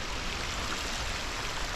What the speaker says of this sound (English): There's all these marshes with water running through them.